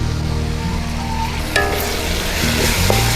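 Crushed ginger, green chili, garlic and chopped tomato frying in oil in a pan for chicken Maggi noodles, a close, loud steady sizzle with a brief stir partway through.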